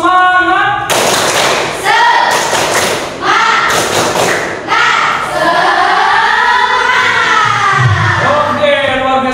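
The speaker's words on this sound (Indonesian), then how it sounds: "Saya akan minta anak semua untuk tepuk semangat supaya kita lebih semangat" A classroom of students doing a rhythmic spirit clap together, loud thudding claps in a set pattern mixed with group voices chanting along.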